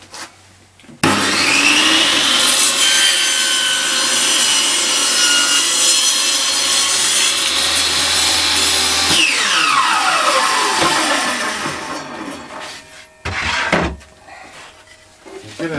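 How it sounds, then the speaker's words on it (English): A table saw rips a length of oak timber on a sled, the blade whining loudly and steadily for several seconds before winding down, followed by a few brief knocks of wood being handled. "So we'll just go to the table saw and rip that."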